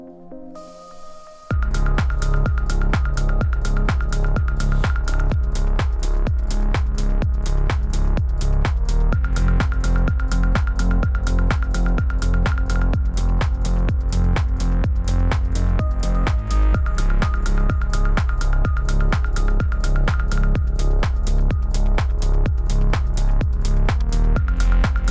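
Unmixed electronic track with a steady four-on-the-floor kick and crisp percussion under a sustained synth tone, loud and continuous after a soft opening second.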